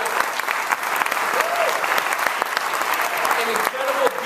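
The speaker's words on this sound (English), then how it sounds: "I just wanted to give you a round of applause" An audience at a health-industry startup launch forum claps steadily in a dense, sustained round of applause, with scattered voices faintly mixed into the crowd noise.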